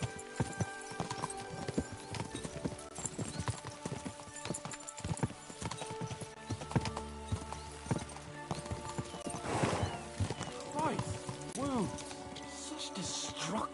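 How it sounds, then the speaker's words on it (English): Horses gallop with rapid rhythmic clip-clop hoofbeats and a whinny in Kingdom Come: Deliverance II, the hooves loud and close amid jingling tack, with people talking over the riding. "We should spur the horses on."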